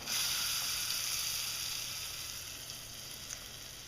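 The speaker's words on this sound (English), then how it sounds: "We're just going to start sauteing the onion in a couple tablespoons of butter or olive oil." Onion sautéing in butter or olive oil in a pan, giving a steady close sizzle and hiss that holds evenly for a few seconds and fades slightly toward the end, with no talking over it.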